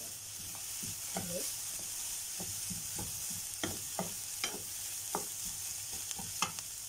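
Peppers and chopped tomatoes are stirred in a pan for an oil-free eggplant dish, a steady low sizzle broken by repeated scraping spoon strokes, close and moderately quiet, with no talking.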